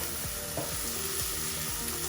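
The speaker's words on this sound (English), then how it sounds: "So it's half a white onion and half a red onion. And I'm just sauteing them on a medium heat." Half a white and half a red onion saute over medium heat for a cabbage filling, a continuous soft sizzle with faint pan clicks and a steady background hum, no talking.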